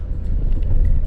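Traffic at the Karnataka-Goa checkpost comes through as a loud, steady low engine rumble with faint wind noise, heard up close with no voices.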